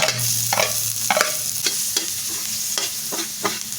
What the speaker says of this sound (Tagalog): Una, magigisa muna tayo. Lagyan natin tong mga bawang.